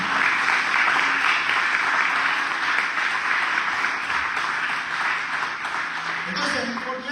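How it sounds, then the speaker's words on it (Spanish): A church congregation applauds loudly and steadily throughout, with a dense, sustained wash of clapping that fades slightly near the end, with some voices mixed in. "Denle un aplauso fuerte al nombre de Dios."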